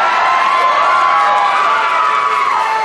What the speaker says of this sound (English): Imagine being in that audience and cheering after you hear that.